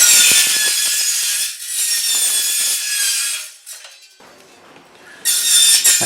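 A Hilti 22V cold-cut metal circular saw bites through cable tray with a loud, harsh, high grinding rasp. It eases briefly in the middle, drops to a quieter whir, then surges back to full cutting.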